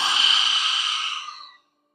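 A deep, breathy exhale during a yoga child's pose in a power yoga session, one long close-up breath that holds steady for over a second and then fades into silence.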